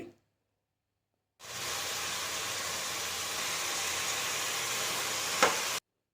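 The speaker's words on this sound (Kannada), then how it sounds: "ಇದು ಸ್ವಲ್ಪ ಫ್ರೈ ಆಗಲಿ" Mutton biryani masala frying in a pan makes a smooth, even hiss that starts abruptly after a short silence, holds steady with one brief knock near the end, then cuts off.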